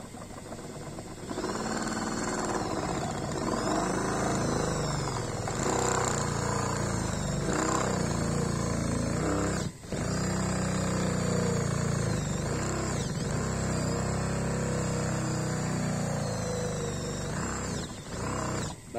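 A hand-held rotary motor tool cuts into a pre-drilled hole with repeated engine braking, its whine holding steady and loud, then briefly dipping and cutting out around the middle before resuming.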